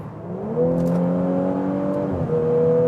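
Engine note of a performance BMW M, Mercedes AMG or Audi S/RS car, a loud sustained drone that rises, holds and shifts pitch as it revs, heard close with no talking.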